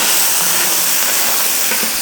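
Pork ribs dropped into hot caramelized sugar in a wok for pineapple pork ribs, giving a loud, steady broadband sizzle and hiss that holds evenly throughout with no talk.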